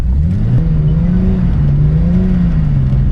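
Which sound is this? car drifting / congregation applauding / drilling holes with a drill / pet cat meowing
car drifting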